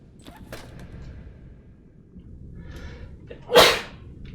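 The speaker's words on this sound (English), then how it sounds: "Oh god, I feel like a sneeze coming on." One sharp, loud sneeze bursts out near the end after several seconds of quiet room noise, close to the microphone.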